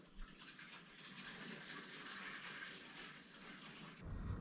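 Water rushing through newly connected bathroom plumbing after the supply is switched back on, a faint, steady hiss and gush of flow that swells slightly louder near the end, with no voices.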